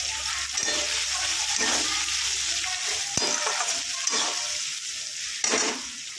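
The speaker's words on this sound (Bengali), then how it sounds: "এটা একটু ভাজা হবে।" Onions sizzle steadily in hot oil, with occasional scraping and clinking of a spoon stirring the pan; no voices.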